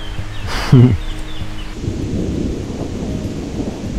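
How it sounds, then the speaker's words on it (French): Thunder from a storm hanging over the Chartreuse mountains, a loud close crack followed by a low rumble, then steady rain pattering on the ground. "l'orage pour l'instant stagne au-dessus"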